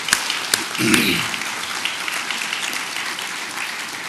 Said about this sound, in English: give a big round of applause for our Sustainability Director, Catherine Gajewski